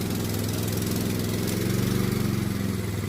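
A 24-volt parking generator engine made for trucks, running steadily with a loud, close, droning rumble and fine rapid vibration throughout, in cold weather, with no talking.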